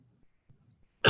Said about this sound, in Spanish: parece que me está dando un poco de tos